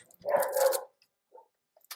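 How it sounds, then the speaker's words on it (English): Excited pet dogs give one loud close bark or yelp at dinnertime indoors, followed by a couple of faint whimpering squeaks. "the dogs are all excited"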